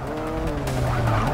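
Racing car in Forza Motorsport 6 skidding through tight corners, tires squealing steadily over a loud engine drone for about a second and a half, close and continuous with no talk.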